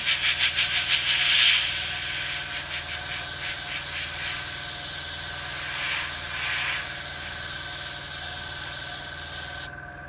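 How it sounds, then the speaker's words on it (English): Airbrush spraying paint onto an Airfix 1/48 Hawker Sea Hurricane Mk.Ib plastic model kit, a steady close hiss running for about ten seconds with slight fluctuations before cutting off abruptly at the end. "That means this bit can all be sprayed in."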